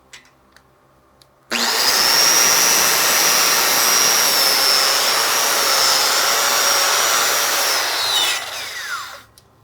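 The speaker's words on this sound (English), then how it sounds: "I'm gonna take our wire wheel here, give it a nice clean." A wire wheel on a power tool scrubs a fresh hardwire weld on an overhead T plate, a loud steady whine that starts abruptly, holds for about eight seconds, then winds down.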